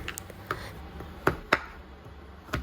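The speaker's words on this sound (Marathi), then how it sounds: "पाणी उकळेपर्यंत आपण चॉकलेट बारीक चिरून घेऊया" A few sharp knife taps on a cutting board as chocolate is chopped finely, irregular and fairly quiet, with pauses between the chops.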